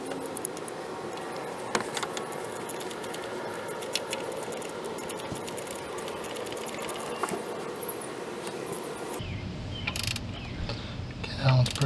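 A ratchet clicks rapidly and steadily while snugging down alternator mounting bolts on a Dodge Caravan, a dense mechanical ratcheting close up that continues almost without pause, then shifts to a duller rhythm near the end.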